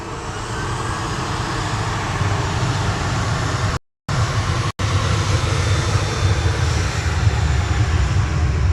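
A Lufthansa Airbus A319 jet from Frankfurt at Manchester Airport, a loud, close, sustained engine roar broken by two brief dropouts in the middle.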